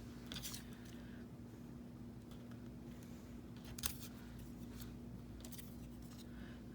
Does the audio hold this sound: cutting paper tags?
yes